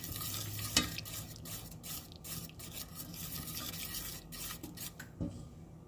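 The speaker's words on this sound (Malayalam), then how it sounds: "മിക്സ് ചെയ്ത് കൊടുക്കണം." A spoon scrapes and stirs finely chopped garlic in melted butter in a pan, giving steady close rasping strokes over a soft sizzle, with a couple of sharper clinks against the pan.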